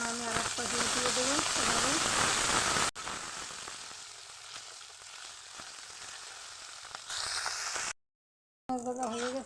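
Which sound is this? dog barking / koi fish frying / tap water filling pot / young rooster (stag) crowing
koi fish frying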